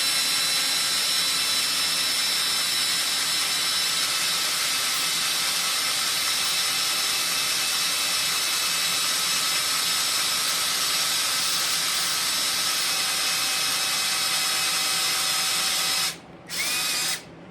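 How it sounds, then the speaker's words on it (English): A power drill whirs steadily at high speed, loud and close, boring continuously into a chess piece before briefly stopping and restarting near the end. "I just hold on and push. Let the drill do its thing."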